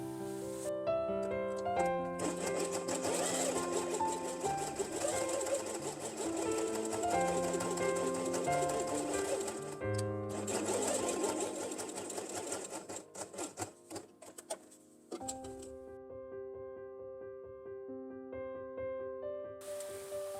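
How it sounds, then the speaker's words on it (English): A domestic sewing machine stitches fabric pieces for a dinosaur quiet book, running in long steady bursts of rapid needle clatter with a brief stop before starting again, close and loud. "Place this element on top and sew only from here to this place."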